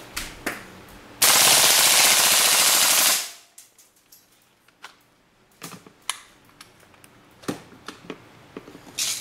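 A WE G39C airsoft rifle fires one loud, sustained full-auto burst of about two seconds, then goes quiet, followed by scattered close mechanical clicks and handling sounds.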